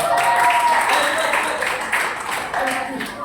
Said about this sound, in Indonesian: Ya, kasih tepuk tangan yang meriah untuk unicorn.